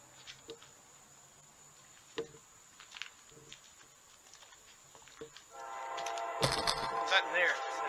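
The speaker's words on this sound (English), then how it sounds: "Cool horn, huh?" A CSX freight train horn in Germantown, Maryland sounds near the end, loud and sudden after quieter scattered noises and brief talk from bystanders waiting beside the tracks.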